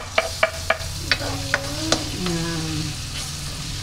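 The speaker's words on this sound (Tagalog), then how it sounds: "Mag-start na tayo mag-gisa" Garlic is sautéing in a pan for sweet and sour tuna, with a steady sizzle under several sharp clinks and scrapes of a utensil stirring. A voice briefly speaks in the middle.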